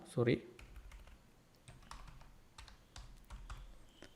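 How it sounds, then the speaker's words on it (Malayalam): Fingers tap a computer keyboard while a stock name is entered for an intraday trading search, a few quick clustered keystrokes up close, then scattered lighter taps over faint room noise. "അദാനി പോർട്ട് എന്ന് ടൈപ്പ് ചെയ്ത് കൊടുക്കാം"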